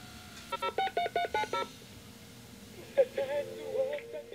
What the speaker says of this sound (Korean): 그리고 어딘가로 전화를 한다